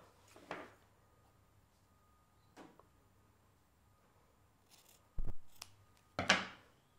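Scissors snip stray yarn from a handmade pom-pom hedgehog, a few separate sharp cuts spaced out against quiet background, two louder snips near the end.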